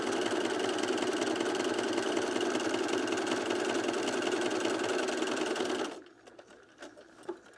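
A sewing machine stitches buttonholes on a self-drafted blouse, running at a fast, steady mechanical rattle up close for about six seconds before stopping, leaving quiet room sound.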